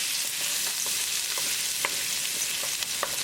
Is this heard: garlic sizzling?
yes